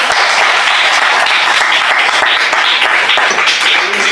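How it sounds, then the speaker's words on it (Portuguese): A church congregation breaks into loud, sustained applause, dense continuous clapping that fills the space evenly from start to finish with no talk over it. "Oh, palmas para Jesus"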